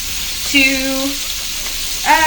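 Steady crackling sizzle of fish deep frying in hot oil for po boys, with brief tonal squeaks and a voice briefly over the continuous frying hiss.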